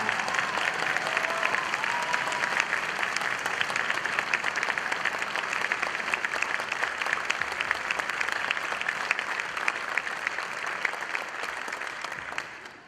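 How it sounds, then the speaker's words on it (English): Steady audience applause for graduating seniors at a spring orchestra concert, many hands clapping evenly in a hall and continuing without talk before fading at the end. "Let's have a round of applause for the seniors."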